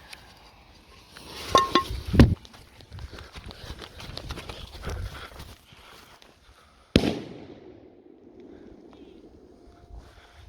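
An old black firecracker called a bomba explodes under a metal pot with one sharp close bang and a clattering tail. Several smaller cracks and knocks come before it, and people talk and laugh around it outdoors.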